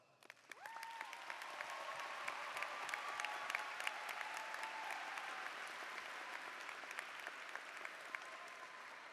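Applause at the Eastside High 2025 graduation ceremony rises quickly into a broad, steady crowd clapping that holds evenly, heard at a distance and quite faint overall, with a few murmured voices beneath.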